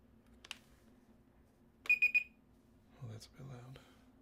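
A timer alarm sounding on a computer, a quick burst of three electronic beeps, quiet and close, set between faint clicks and low murmured talk.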